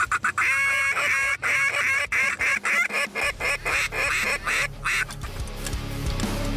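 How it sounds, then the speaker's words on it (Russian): Ruddy shelducks call in flight over fields during a duck hunt, a loud rapid series of honking, goose-like calls close by, breaking off into rustling and wind noise. "Огарь, огарь!"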